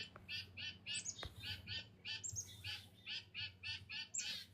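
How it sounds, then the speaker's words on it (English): Pet birds squawk and chirp insistently to be fed, a run of repeated sharp calls in quick bursts, fairly close, over a low indoor hum. "The birds really want to be fed right now, so let me give them a little food. They're so like protesting right now."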